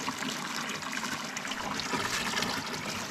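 Water is poured into a container to mix fertilizer on a pig farm, a steady close splashing and trickling stream that stays even for the whole few seconds with no talking.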